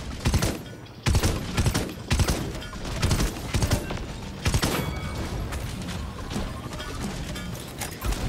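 Heavy gunfire from a video game hero shooter crackles in repeated loud bursts and volleys, with impacts and crashes scattered through a dense, chaotic mix.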